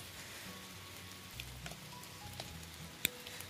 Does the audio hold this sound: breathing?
no